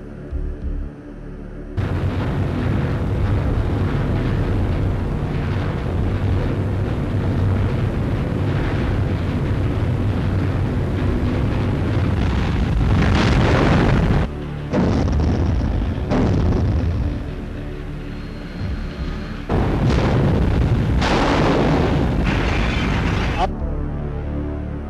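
Heavy, rumbling underwater depth charge explosions roll one after another, deep booms and bursts filling the whole stretch with only brief gaps between them.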